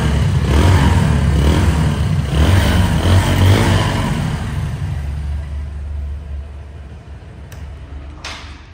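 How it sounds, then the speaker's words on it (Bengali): A Bajaj Discover 135cc motorcycle idles nearby with a steady, throbbing rumble that slowly fades and softens, followed by a couple of faint clicks near the end. "গাড়ি কিন্তু স্টার্ট হয়ে গেছে।"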